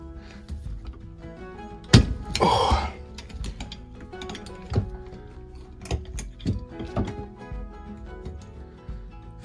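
Metal clicks and a short scraping, ratcheting burst come from a large screwdriver levered in the keyway to undo the raw water pump nut on a Yanmar 3YM30 marine diesel, a Johnson F4B903 pump. The sounds are close and intermittent, with no talking.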